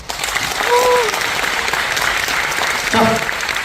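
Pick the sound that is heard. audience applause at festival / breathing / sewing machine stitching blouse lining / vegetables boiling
audience applause at festival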